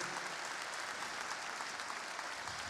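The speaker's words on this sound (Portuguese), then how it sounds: "Você pode aplaudir agora com força o Senhor?" Church congregation applauding during a youth worship service, a steady, dense wash of clapping that holds evenly throughout, moderately distant and fairly quiet, with no voices.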